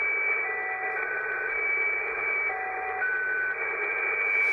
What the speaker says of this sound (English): Three separate tones, but I've noticed a fourth tone there.